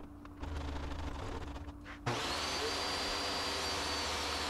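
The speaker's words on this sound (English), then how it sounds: "I'm just trimming up the edges of the cherry" Miter saw trimming the edges of cherry wood using a shop-made jig: a motor starts with a rising whine, then a louder steady high-pitched running roar continues close by, without talk.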